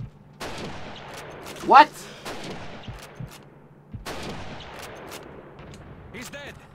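A single sharp sniper rifle shot rings out in Call of Duty 2's Soviet campaign in Stalingrad, standing out over low battlefield ambience and scattered game sounds, with people talking around it.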